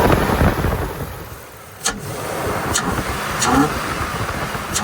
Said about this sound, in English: I'm going to turn the throttle and see how it revs up now.